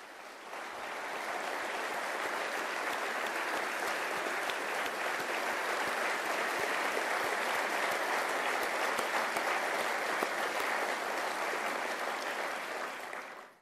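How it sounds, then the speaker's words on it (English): An audience at a Pentagon Hall of Heroes induction ceremony gives Medal of Honor recipients a long, steady round of applause, dense and even from start to finish before tapering off. "I'd just like to give them also a round of applause for your heroism and courage."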